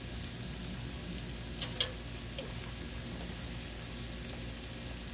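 Cabbage fries in ghee on a Blackstone griddle beside pierogis and kielbasa, giving a faint, even sizzle. A couple of brief utensil ticks cut through near the middle, with no voices.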